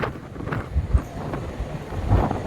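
Sea wind gusting at a seashore during light drizzle, a steady rushing buffet against the microphone with soft swells of louder gusts and no talk.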